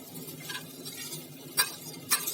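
Tomatoes are stirred into onions frying in a pan, giving a faint soft scraping and gentle sizzle, with two sharper clicks of the spoon against the pan near the end.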